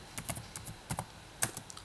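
Typing on a computer keyboard while installing Python on a Windows 11 computer: a handful of distinct, uneven key clicks, close and fairly quiet, with no talk.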